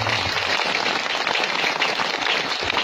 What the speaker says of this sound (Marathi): एकदा सगळ्यांसाठी जोरदार टाळ्या होत्या